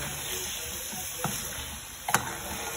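Boiled egg masala with coriander simmers on a low gas flame, a steady hiss of sizzling with a couple of soft stirring knocks near the end.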